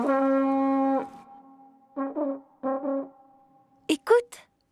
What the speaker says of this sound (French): Écoute, c'est le bateau.